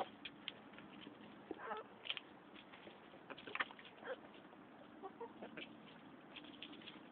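Chickens cluck softly and peck at cracked eggs and eggshell, with scattered faint clucks and light tapping at close range over a quiet background.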